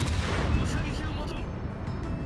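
Front guns of the Italian cruiser Napoli booming in World of Warships, a dense continuous rumble of heavy naval cannon fire with deep low-end thunder throughout, loud and sustained without clear separate shots.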